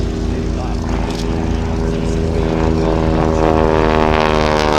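A North American Harvard propeller trainer flies past at an air and car show, its radial engine and propeller giving a loud, steady, buzzing drone throughout, with a voice talking over it.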